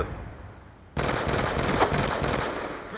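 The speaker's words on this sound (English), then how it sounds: "Throwing grenade." Grenade blast in a Call of Duty match, a sudden loud broadband burst of explosion noise that cuts in over a faint chirpy background and rumbles on.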